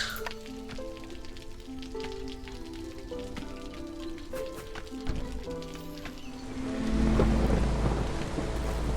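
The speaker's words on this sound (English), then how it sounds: "Well, the storm's here." A thunderstorm in the Against the Storm video game builds as rain and rumbling thunder rise under a melodic game score, with the downpour growing louder and heavier toward the end.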